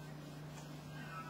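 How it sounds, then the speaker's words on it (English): A short, faint meow from a cat, a single brief call over quiet room tone. "Meow!"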